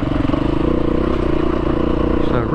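A Husky TE310R dirt motorcycle with road-pumped tires runs along a bumpy trail, its engine a steady close drone with rattling clatter. The tone rises briefly near the end.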